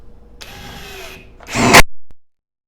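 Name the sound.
Dong Cheng 1/2-inch impact wrench running on high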